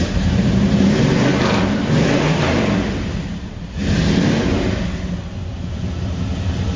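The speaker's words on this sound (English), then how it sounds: "You give it a little gas out and it sounds like a muscle car." A car engine idles with a deep, muscle-car-like rumble, then gets short bursts of throttle, swelling loud, dipping briefly and revving again close to the microphone.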